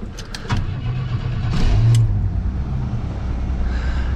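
An old car's engine cranks over briefly, catches and settles into a loud, steady idle with a slight rise in revs, recorded up close on a cold day after a snowstorm.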